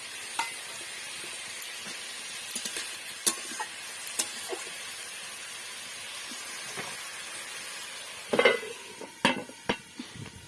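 Vegetable curry with freshly added green chilli sizzles steadily in a pan, punctuated by scattered scrapes and knocks of a spoon stirring, with a louder burst of stirring toward the end.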